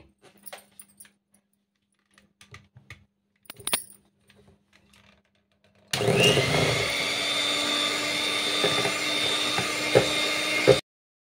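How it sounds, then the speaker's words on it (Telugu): A blender whirring through a mint ice cream mixture tinted with green food colouring, a steady loud motor drone that starts abruptly after faint clinks and rattles, then cuts off. "ఇంకొద్దిసేపు బ్లెండ్ చేసుకోవాలి"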